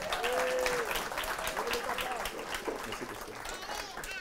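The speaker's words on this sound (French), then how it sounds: "On l'applaudit très fort" A church congregation at a family celebration service applauds loudly, steady sustained clapping with voices calling out over it.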